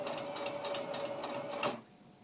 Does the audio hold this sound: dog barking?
no